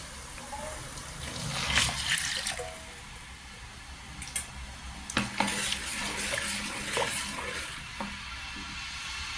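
Second coconut milk poured into a pot of thickening, simmering jaggery, a steady wet liquid wash with occasional clinks and stirring knocks against the vessel, close and moderately loud.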